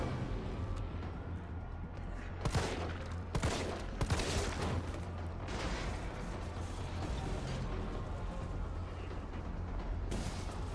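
Gunshots in the Resident Evil 0 video game: a few sharp shots ring out over a steady, quiet background hum, with a final shot near the end.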